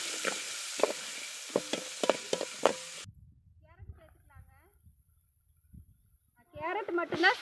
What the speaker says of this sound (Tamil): வெங்காயத்தை வந்து வதக்கி விட்டுக்கலாங்க நல்லா